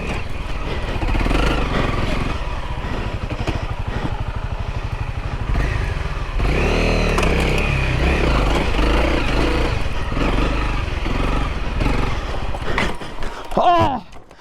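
A lightweight two-stroke dirt bike climbing a steep forest trail section in Pachaug State Forest, its engine loud and sustained close by, rising and revving hard through the climb before it sputters at the end.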